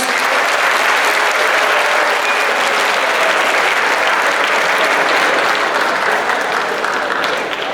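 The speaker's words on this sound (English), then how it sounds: "Please give him a big round of applause." Loud, sustained applause from the audience at a junior debate competition fills the hall steadily for several seconds, with no speech over it.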